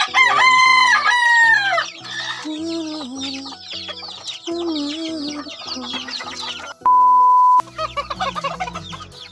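Flock of chickens waiting to be fed, with a rooster crowing loudly up close, then dense clucking and squawking from several birds, continuous and near.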